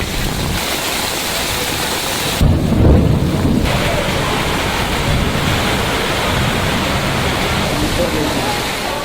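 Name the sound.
heavy monsoon rain in Bihar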